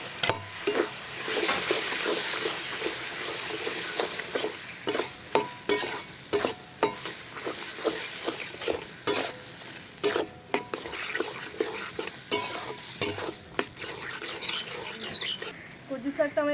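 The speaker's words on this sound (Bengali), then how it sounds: "কচুর শাকটা এর মধ্যে দিয়ে একটু ভেজে নেব।" Taro leaves fry in a pan during village-style cooking, with loud continuous sizzling and repeated scraping and clattering strokes of a utensil stirring against the pan.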